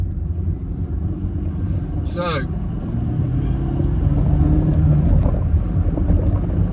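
A Mercedes-Benz C Class Coupe with a manual clutch driving along, a low steady engine and road rumble with wind noise, growing slightly louder, while someone talks over it.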